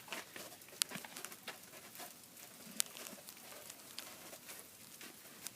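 Sleet comes down steadily in a 2014 winter storm, a soft continuous granular patter outdoors, with a few sharper ticks of pellets hitting nearby surfaces.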